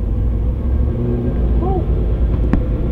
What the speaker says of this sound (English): because it revs up out of first pretty quick.